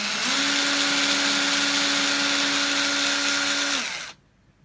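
A power drill bores into a Guns N' Roses pinball cabinet during a restoration. It gives one sustained, loud, steady whine with a constant pitch, then cuts off abruptly near the end.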